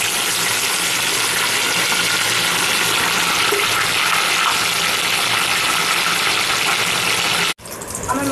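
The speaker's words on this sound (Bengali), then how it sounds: "মাছটা ভাজতে দিয়ে দিচ্ছি।" Fish frying in hot oil in a home kitchen pan, seasoned with turmeric, makes a loud, steady, dense sizzle that runs unbroken for several seconds and then cuts off abruptly near the end. No one speaks.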